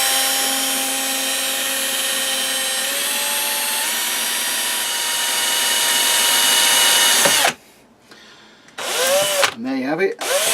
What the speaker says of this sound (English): and I can drill my first hole